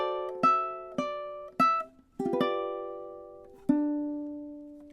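Ukulele playing bar 17 of a song, a handful of separate plucked notes and chords in a slow, uneven rhythm, close and clear, each ringing out and fading, with a softer ripple in the middle.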